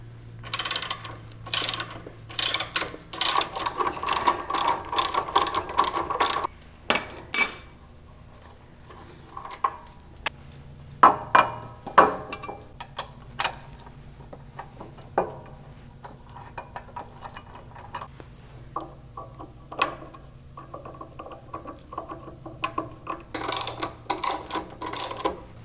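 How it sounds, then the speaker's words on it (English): A ratchet tightens a rear bolt on a Toyota 4Runner shock guard, giving bursts of quick metallic clicking with pauses between them, close and fairly loud, with no talking. "Then I can tighten this back bolt down all the way."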